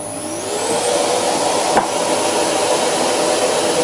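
A lathe on a variable frequency drive turns a brake rotor at 153 RPM, producing a loud, steady mechanical whir and hum with a faint rising whine and one brief scrape near the middle.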